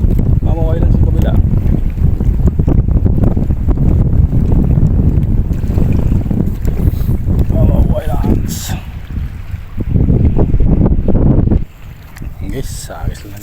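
Strong wind buffets the microphone in loud, rumbling gusts at a coastal fishing spot, nearly continuous, easing briefly toward the end with faint rustling underneath.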